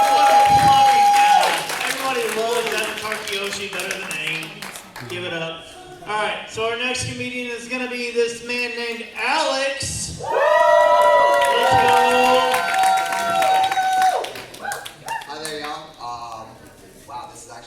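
An open mic comedy audience at an anime convention applauds and cheers loudly, with steady clapping and whoops that swell and fade while someone speaks over the crowd.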